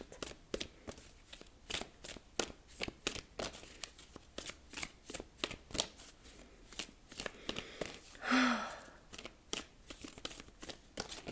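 A deck of cards, shuffled and then a single card drawn during a reading, gives a rapid, rhythmic flutter of riffling cards and a brief soft slide near the end, close and fairly quiet.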